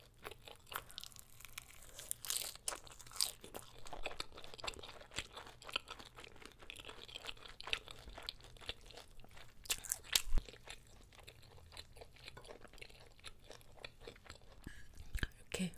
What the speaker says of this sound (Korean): 면에다가 바르고 제가 먹고